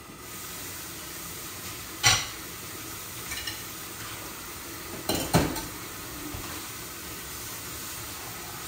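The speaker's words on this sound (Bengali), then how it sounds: "এই দেখুন 2 বলক চিংড়ি মাছ আমি দিয়ে দিচ্ছি, এখন এই দিয়ে দিচ্ছি, পরে ভালো করে ভুনবো।" Shrimp tipped into a pan and stirred, with a steady low sizzle and two sharp clatters of a utensil against the pan, alone with no talk.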